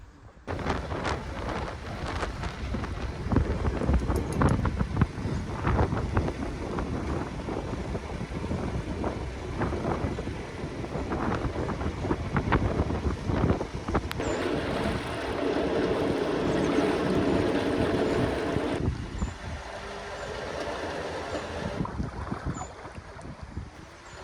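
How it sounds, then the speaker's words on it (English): Strong wind roars and buffets the microphone loudly and continuously while a narrowboat reverses out of Wigrams marina, with a steadier rushing surge partway through and no talk. "Not looking forward to reversing out of the marina in this wind."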